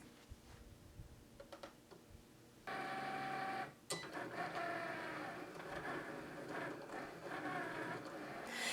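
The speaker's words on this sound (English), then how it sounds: "I'll press the blinking go button on my Cricut and we'll start cutting the glitter HTV" A Cricut cutting machine slices glitter heat transfer vinyl, starting with faint ticks and then settling into a steady mechanical whirring of the carriage and blade, fairly quiet and continuous.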